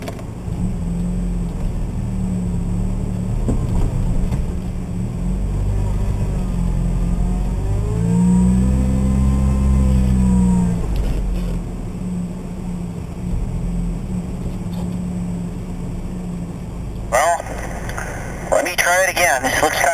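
An off-road vehicle stuck in snow rocks back and forth, its engine droning loudly up close and swelling into a rising, then falling rev midway. A voice talks over it near the end.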